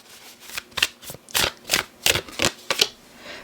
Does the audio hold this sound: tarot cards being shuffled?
yes